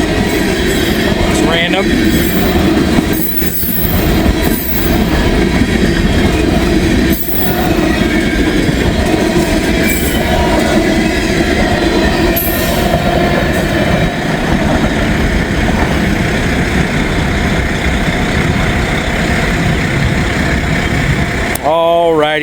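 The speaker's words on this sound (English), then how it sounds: "there goes Norfolk Southern" A Norfolk Southern freight train rumbles past loudly and close, a steady roar of railcars with clacking wheels and occasional squeals, while a person speaks briefly over it.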